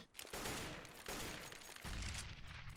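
A decoy grenade in a competitive esports shooter match gives off fake gunfire as a dense, crackling burst of rapid shots that runs for a few seconds with no voices over it.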